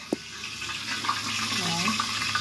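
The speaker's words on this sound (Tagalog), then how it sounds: "Habang mag-iugas tayo ng plato." Tap water runs into a sink while plates are washed, a steady splashing trickle with a few clinks, as a voice speaks over it.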